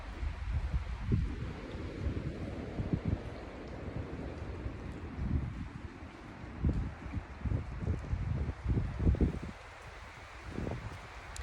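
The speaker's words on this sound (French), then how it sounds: "le vent se lève, comme tu l'entends probablement" Gusty wind sweeps through trees, with low rumbling buffets against the microphone and rustling leaves rising and falling over about eleven seconds.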